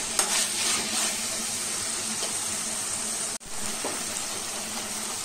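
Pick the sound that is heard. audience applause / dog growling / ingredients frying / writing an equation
ingredients frying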